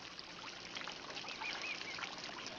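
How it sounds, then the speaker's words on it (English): Ducks or geese call faintly near water, soft honking and quacking notes scattered over a steady wash of distant background noise. "I hear the water. I hear the birds."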